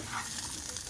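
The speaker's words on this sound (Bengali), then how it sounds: "মশলা থেকে সুন্দর গন্ধ বেরোলে আর তেল ছাড়া শুরু করলে ভাজা চিংড়ি মাছগুলো দিয়ে আর একটু কষিয়ে" Shrimp sizzle and crackle as they fry in an oily spice masala and are stirred in the pan. The frying is a steady, quiet hiss with no voices over it.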